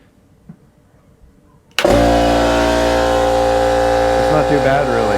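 A Kobalt 8 gallon air compressor plugged into an outlet kicks on abruptly after a quiet moment and keeps running with a loud, steady motor drone and rattling hum.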